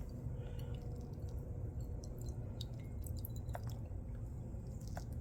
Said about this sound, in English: we're going to try squirting a little acetone on here